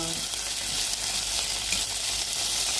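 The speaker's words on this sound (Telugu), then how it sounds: "సో ఇలా ఫ్రై అవుతుంది కదా మన చెనా పులావ్ యొక్క" Chana pulao preparation sizzling in a pan, a steady soft hiss of oil frying without a break, fairly quiet and close, with no voices over it.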